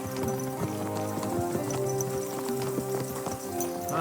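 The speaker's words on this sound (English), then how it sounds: "My God, that looks like a bloody expensive horse." Horse hooves clip-clop at a steady walking rhythm in the video game Kingdom Come Deliverance 2, the regular beats close and clear over a soft ambient music bed, with no talk.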